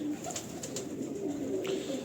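Soft, low coos of jaaldar pigeons repeat faintly against a murky background of rustling and distant noise.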